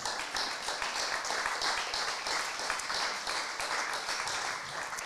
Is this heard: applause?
yes